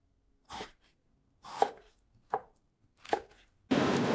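Mangoes are chopped in a factory with four separate knife strikes, each a sharp chop against a board and spaced about a second apart, followed by a burst of steady noise at the end.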